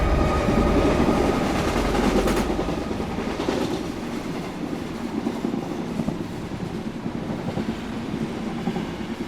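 A train rumbles along the rails, loud at first and then easing into a steady rhythmic clatter, with no voices.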